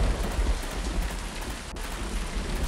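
Steady rain from the video game Vermination hisses down in a dense, continuous wash, with a faint low rumble underneath and no voices.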